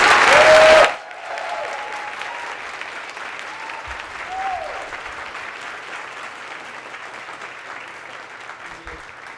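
Audience applause for the President and First Lady of the United States at a Virginia COVID-progress event, a loud burst of clapping in the first second that then gives way to a quieter, steady room murmur.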